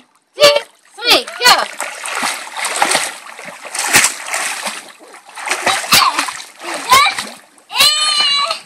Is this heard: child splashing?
yes